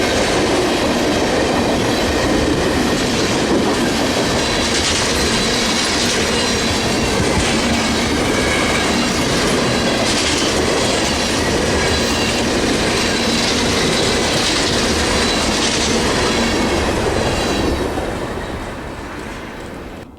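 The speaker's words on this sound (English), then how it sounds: "This train has come from Tampa as CSX B638, will run to Mason City, Iowa as CPKC 547" A CSX freight train rolls past at close range, a loud continuous roar of wheels and cars with rhythmic clatter over the rails, holding steady for a long stretch before starting to fade at the end.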